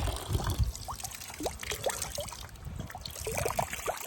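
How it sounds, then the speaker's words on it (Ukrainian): A small mountain stream in the Bavarian Alps trickles and bubbles with quick gurgling plinks over a low rushing background, close and moderately quiet, no speech. "А тут ось тече водичка."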